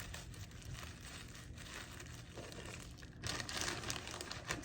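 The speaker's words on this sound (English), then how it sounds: "Okay, now we get to fold up this plastic bag." A plastic bag being folded up by hand, giving soft continuous crinkling and crumpling that swells louder in the last second or so, close and fairly quiet with no talking.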